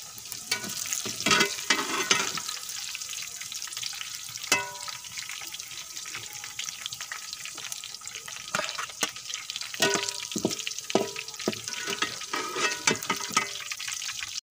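Okra fries in hot oil for a bhindi keema dish, a steady crackling sizzle broken by scraping and clattering stirs with no talking.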